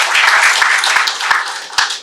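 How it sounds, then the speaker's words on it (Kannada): Audience applause at a book launch for a Kannada novel, a loud, close burst of many people clapping with a few distinct sharp claps standing out near the end. "ನಮ್ಮೆಲ್ಲರ ಒಂದು ದೊಡ್ಡ ಅಭಿಮಾನದ ಚಪ್ಪಾಳೆ"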